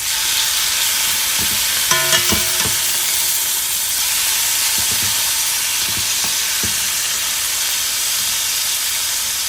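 Marinated Cuban chicken sizzles steadily on a hot griddle after being flipped, a continuous close frying hiss with a few brief clatters of the turner early on and no talking.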